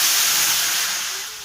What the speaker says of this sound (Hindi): मम्मी जी छोंक रही है सब्जी, बस खाली उसका छोंक लगा के सौंफ का